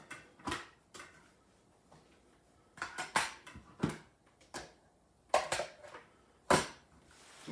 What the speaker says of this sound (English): So let's take these bowls out and the plates out.